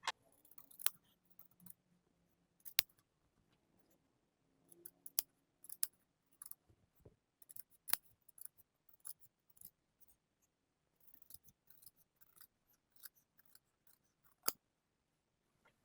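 Scissors snip through a stiff bag stabilizer, a series of crisp, close cuts in irregular bursts with brief quiet gaps between them.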